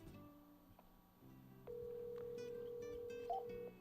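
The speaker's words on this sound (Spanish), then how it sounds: "voy a simular, hacer la marcación, presiono" A Panasonic NS500 phone system gives a steady dialing tone for about two seconds, with a few short beeps near the end as keypad digits are pressed. The tones sound faint and close, with no voices.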